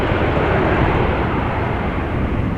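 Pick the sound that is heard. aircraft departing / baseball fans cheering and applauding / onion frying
aircraft departing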